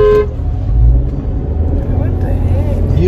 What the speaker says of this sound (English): Usually we honk here.